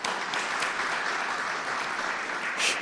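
A crowd at an outdoor government event applauding, steady mid-level clapping that holds throughout with a brief swell near the end.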